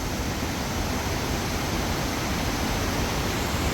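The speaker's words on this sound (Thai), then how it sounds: "น้ำตกนี่แหละ" A waterfall at a tourist spot rushes in a dense, even roar of falling water that stays loud and unbroken throughout, with no voices.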